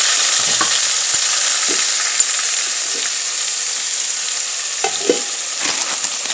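Onions and tomatoes fry loudly in a pan with a constant bright sizzle, broken by occasional scraping stir strokes, close up and with no voices.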